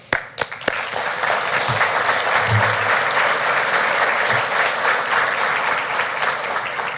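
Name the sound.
audience applause at city address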